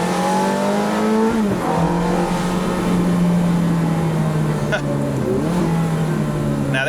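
A 2005 Ferrari F430 Spider with low mileage revs loud and near, its engine note climbing, dipping sharply at shifts and climbing again as the car pulls away, with a voice faintly over it.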